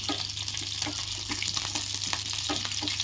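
Onions fry in a pan for a yippee pasta masala, giving a steady close sizzle with scattered spatula scrapes and crackles over a constant low hum, with no voices.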